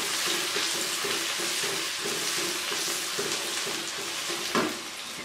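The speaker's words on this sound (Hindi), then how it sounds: "इन मसालों को मैं अब अच्छे से भून लूँगी।" Spices for karela chana daal fry steadily in a pan, with a constant dense sizzle and occasional stirring scrapes and taps, recorded up close with no talking.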